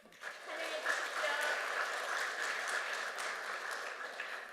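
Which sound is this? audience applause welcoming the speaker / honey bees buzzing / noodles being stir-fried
audience applause welcoming the speaker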